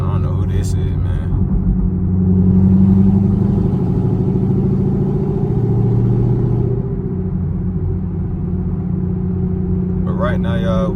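Camaro ZL1 V8 engine on a highway drive, a loud, deep, steady rumble heard from inside the cabin, swelling in a sustained pull before easing, with clatter near the start and end.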